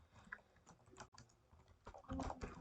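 Soft keystrokes on a computer keyboard tap out a quick uneven run, then a denser cluster near the end, faint and close, with no talking.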